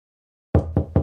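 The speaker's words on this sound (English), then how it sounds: "A knock on the door." Three loud, close knocks on a door after a second of silence, evenly spaced with a dull, heavy thud to each.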